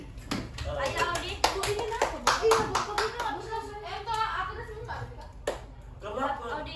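School students clap their hands in a classroom session, a run of sharp claps mixed with children's voices talking over them.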